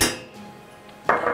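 Metal pot and utensils clinking as butter goes into the pot, a sharp clatter at the start and another bright clink about a second later, close and loud with quiet between.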